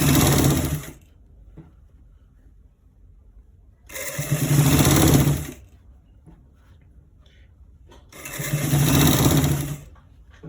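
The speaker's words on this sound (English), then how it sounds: "We are stitching it straight to the end part." Sewing machine stitching a collar roll, running in three loud bursts of about a second each with quiet pauses between, no talk over the motor.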